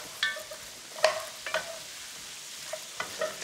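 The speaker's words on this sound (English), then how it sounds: "Now we add the beef." Beef being stirred in a pot while it fries, with soft sizzling underneath and several distinct scraping stir strokes spread across the moment, close and fairly quiet, no talking.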